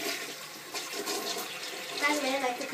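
A toilet flushes during a small pet fish funeral, a rushing swirl of water close by that gurgles and swells toward the end, while a voice is faintly present underneath.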